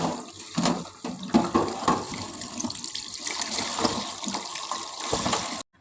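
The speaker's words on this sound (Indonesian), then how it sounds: "Ini udangnya mau aku cuci dulu ya guys" Shrimp being washed under running tap water in a kitchen, an uneven close splashing and gushing with irregular bursts as the shrimp are rinsed, cut off abruptly at the end.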